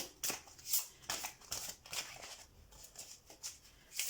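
Tarot cards being drawn and handled during a reading, with soft papery slides, flicks and taps in an irregular run of about ten quick rustles, close and quiet, without talking.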